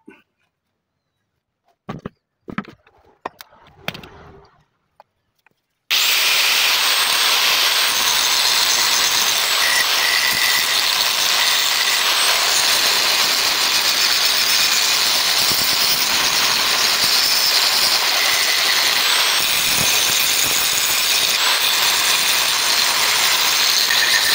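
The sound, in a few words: angle grinder thinning a boat propeller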